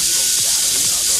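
Bacon frying in a pan, a loud, steady, close hiss and sizzle of hot fat with faint spattering pops underneath.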